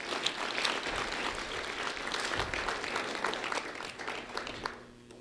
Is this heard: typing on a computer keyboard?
no